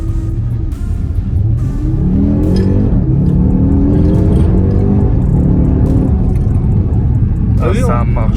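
An Audi RS Q3 rental car accelerating hard through Paris, heard from inside as a loud, steady engine roar with a rising rev sweep in the middle, while people in the car talk over it.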